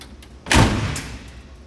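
A rusty 1957 Chevy's door swings shut with a single solid thud, close and fairly loud, followed by a brief fading rattle.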